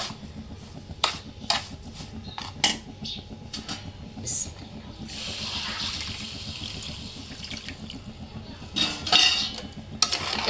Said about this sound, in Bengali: এটাকে ভালো করে একদম নাড়া দেব যেন লেগে না যায়।